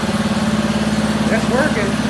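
A repaired 1985 200X engine idles close by with a steady, throbbing putter, and a voice briefly speaks over it.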